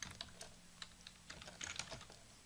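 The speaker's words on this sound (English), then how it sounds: "And then we can start typing in, thank you for your purchase." Keys on a computer keyboard clatter in quick, uneven runs of close, light clicks while a customer email is typed, with a few louder strikes and no talking.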